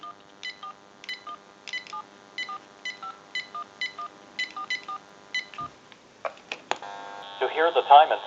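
Telephone keypad tones beep from a General Electric 27909 cordless phone in a quick sequence of short, separate notes, followed by a line tone and the start of a recorded time-and-temperature voice.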